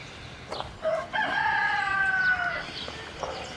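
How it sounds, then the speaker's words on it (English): A rooster crows once, a long rising and falling call at moderate distance, over a quiet outdoor background beside a bonsai greenhouse. "I can hear my rooster crowing."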